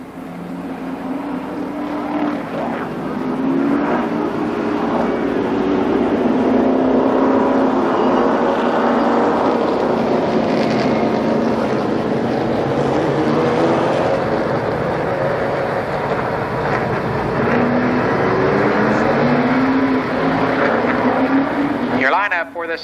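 Late model race cars in a heat race at Columbus Motor Speedway, engines roaring continuously as the pack circles, loud and sustained with a race announcer talking over the top.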